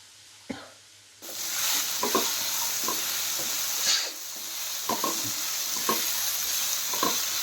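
Pumpkin curry with chickpeas, Kolkata-style kumro'r chokka, fries in a pan with a steady soft sizzle. Occasional clinks and scrapes of stirring are heard close by.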